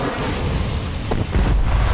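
A cruise missile explodes in the video game Call of Duty Black Ops Cold War, a loud, sustained rumbling blast that swells into a deeper low boom toward the end.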